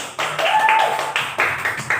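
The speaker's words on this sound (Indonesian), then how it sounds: "Beri tepuk tangan dulu." Students in a high school classroom clap for a classmate's correct answer in short bursts, a few quick rounds of light, close-by clapping with brief gaps between them.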